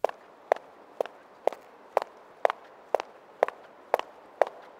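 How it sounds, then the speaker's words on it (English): Footsteps recorded as Foley, ten evenly spaced steps at a steady walking pace, each a crisp close thud, over a constant hiss of background noise. "The first example is some footsteps which have a bit too much background noise."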